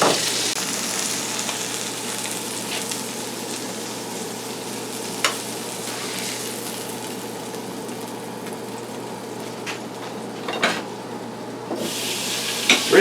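A cheeseburger patty fries in a pan with a steady, close, hissing sizzle throughout, broken by a few brief clicks and scrapes of a utensil, and no voices.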